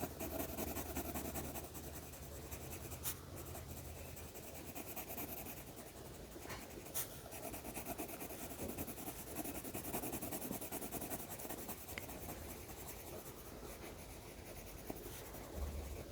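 Pencil sketching on paper while drawing a holiday wreath, a close continuous scratchy rubbing with short strokes and taps, steady and alone under faint background hiss.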